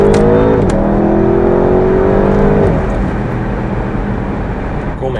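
An Audi RS6 Avant C8 accelerates hard, its engine note rising in a loud, smooth sweep before a gear change, then settling into a lower, fading roar.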